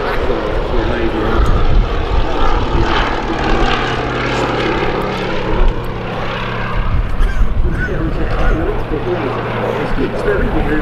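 A Fairey Swordfish biplane flies low overhead at an air show. Its propeller engine makes a loud, continuous drone that holds for the whole stretch, with people talking over it.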